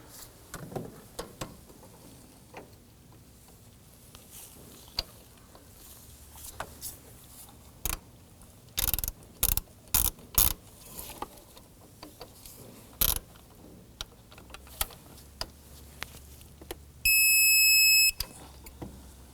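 A torque wrench tightens a bolt to 7.2 foot-pounds on a serpentine belt kit of a 2003–2014 Volvo XC90. Sharp close clicks and ratchet snaps come in scattered bursts, with a brief electronic beep near the end.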